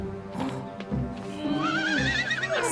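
A horse in an animated fairy tale gives a loud, wavering neigh with a rising and falling whinny, along with some hoof clatter and a few other sounds.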